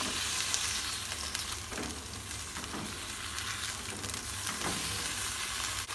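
Broccoli stir-fry with seasoning tossed and stirred in a frying pan, a steady close sizzle with scraping strokes of the spatula throughout, no voices.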